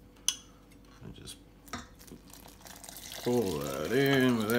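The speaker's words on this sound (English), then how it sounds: "pour that in without getting it all over the bench." Melted butter dissolved in stock is poured into a mixing bowl for peanut butter dog treats, a soft trickle after a few clinks of utensils, with a voice talking over the pour near the end.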